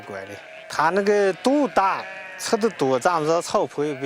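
Mongol sheep bleat in a rapid series of wavering, nasal calls from several animals, loud and close on a Mongolian herding farm, overlapping one another in quick bursts.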